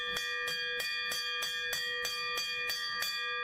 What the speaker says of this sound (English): the sellout bell timer went off. I had to ring the bell.